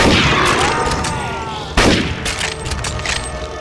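Gunfire in the first-person shooter NecroVisioN: a sharp, loud burst near the middle stands out over a dense, continuous backdrop of combat noise, with quieter crackling shots after it.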